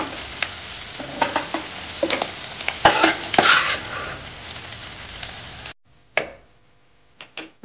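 Vegetables fry in beaten egg in a pan for an egg Maggi dish, a steady close sizzle with scattered stirring clicks and scrapes that cuts off near the end, followed by a few faint knocks.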